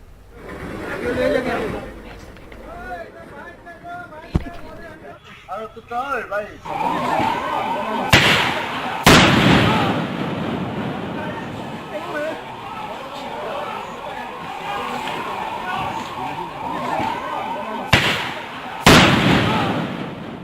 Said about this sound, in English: listen to this video of the gunfire between the 2 states' police